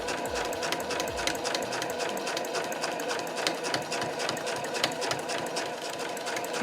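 Domestic sewing machine running a single line of stitching through fabric along a marked line, a steady rapid mechanical chatter, close and moderately quiet, continuing without a break.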